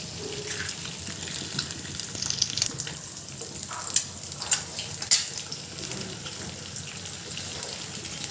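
Eggs fry with browned onions and green chillies in a pan, giving a continuous close sizzle with a watery, splashing quality, dotted by a few sharp clicks and scrapes of a spatula midway.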